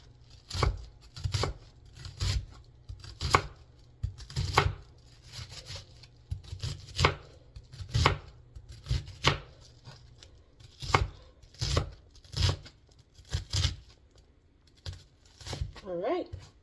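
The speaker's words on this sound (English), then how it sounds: "And then you want to roughly chop." A knife roughly chops onions for a taco salad on a cutting board, with irregular sharp thuds in quick clusters, close and clear, with light scraping between cuts.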